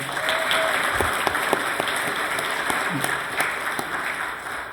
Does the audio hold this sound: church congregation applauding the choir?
yes